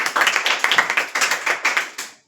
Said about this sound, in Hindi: जोरदार ताली लीजिए